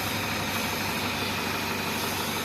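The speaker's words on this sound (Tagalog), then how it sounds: "Yung lagutok ang andar ng makina." An Isuzu 10PE1 diesel engine runs steadily at close range, a dense, continuous mechanical drone with a rough knocking fault in its running, holding level for the whole stretch with no talk.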